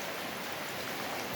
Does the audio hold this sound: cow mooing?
no